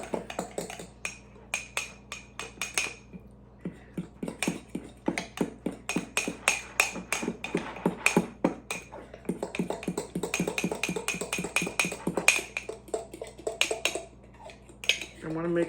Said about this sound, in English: So we're going to mix this all up really, really well.